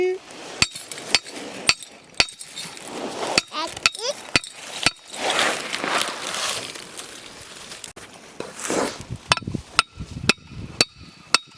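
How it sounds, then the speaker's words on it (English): A hammer strikes repeatedly while a trap is set outdoors on a trap line, sharp metallic blows at uneven intervals, some in quick runs, with rustling and handling noise between them. "It is really hard to hammer and run a camera at the same time."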